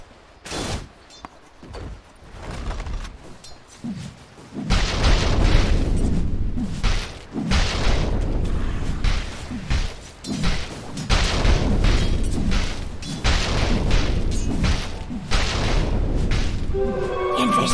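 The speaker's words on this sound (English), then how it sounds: "Dire's bottom tower is under attack!" Booming impacts and crashing blasts from a tower under attack in the video game Dota 2, dense and repeated over a steady loud battle din, with short gaps between heavy hits.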